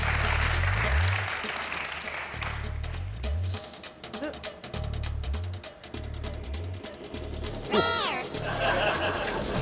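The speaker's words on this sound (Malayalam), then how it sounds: "കൈയടിക്കുന്നുണ്ട്" Applause from a comedy stage-show audience, a broad steady clapping wash running under loud music and stage voices, with a couple of brief gaps and a swooping effect near the end.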